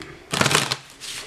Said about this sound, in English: Shouldn't actually need to shuffle a deck at all.